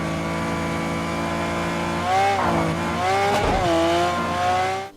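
Race cars roar through a Project Cars 2 race in a steady loud engine drone, then rise and shift pitch as they rev and pass, with tire squeal near the end.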